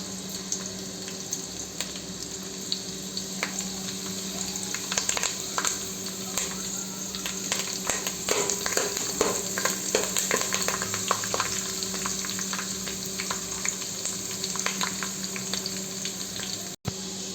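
Green chillies, garlic and curry leaves fry in hot oil for poha chivda, a steady close sizzle with scattered crackles and pops and occasional stirring clinks, no talk.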